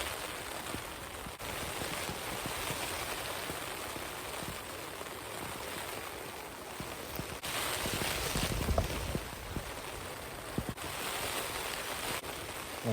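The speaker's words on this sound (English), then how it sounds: "Just bring you in to enjoy the rain with me." Rain falls on a tent during a windy beach camp on the Cumbrian coast, a steady dense patter with occasional heavier bursts of drops and no talk.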